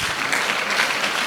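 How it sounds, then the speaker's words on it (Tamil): A short burst of dense audience clapping fills the hall at a drug-abuse awareness event, steady and moderately loud, with no voices over it. "கைத்தட்டு"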